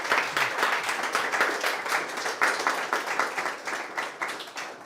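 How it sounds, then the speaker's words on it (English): An audience at a built-environment design talk gives Russell and Jeff a round of applause, sustained close clapping from a modest crowd with a slightly uneven, fluttering texture throughout. "So can we give a big round of applause for Russell and Jeff?"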